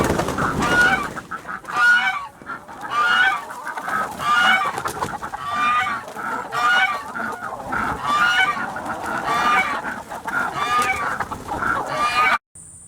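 Chickens cluck and squawk up close in a cold winter garden, the calls coming in repeated bursts that overlap almost nonstop, with a brief break just before the end.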